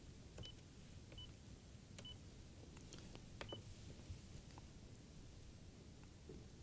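Short keypad beeps from an OpenStage 60/80 SIP desk phone as a number is dialed, several brief tones spaced irregularly over a steady background hiss, fairly faint.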